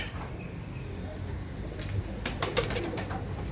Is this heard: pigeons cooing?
yes